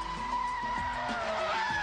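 A drifting car skids sideways through a bend, its tires squealing in a sustained screech over a steady engine drone, close and loud throughout.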